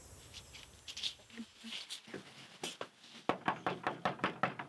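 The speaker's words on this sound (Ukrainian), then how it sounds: "Ну тоді стукай у двері і заходь" Knuckles rap on a door in a Ukrainian matchmaking comedy scene, a few scattered knocks at first, then a clear run of about seven evenly spaced, fairly close knocks, with faint voices in the background.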